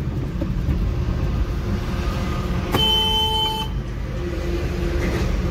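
Ashok Leyland Bada Dost AC truck rolling along a road with a steady engine rumble, broken by one sustained horn blast of about a second partway through; no talking.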